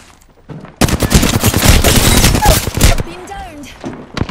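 Rapid automatic gunfire in a squad-based shooter video game bursts loud and dense for about two seconds, preceded by quieter game sounds and followed by fading effects and chirps.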